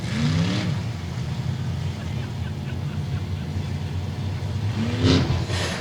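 Race cars at a night race of the 2017 Southern Nationals, running under green flag: steady loud engine roar throughout, with cars swelling past near the start and again near the end.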